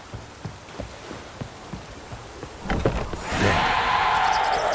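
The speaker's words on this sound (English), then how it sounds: "Looks like rain." Rain in The Witcher 3 begins with scattered heavy drops tapping a surface, then builds into a steady, loud downpour hiss in the last seconds, with no voices.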